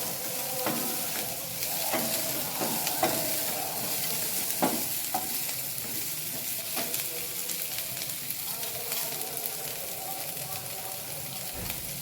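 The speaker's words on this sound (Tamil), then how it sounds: "இப்போ வெங்காயம் வந்து லைட்டாக வதக்கிட்டோம்." Onions sauté in a pan under a continuous sizzle, with repeated spatula scrapes and clinks from stirring close by.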